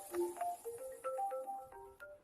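A mobile phone plays a melodic ringtone, a quick run of bright electronic notes rising and falling at moderate volume, clear and uninterrupted with no voices.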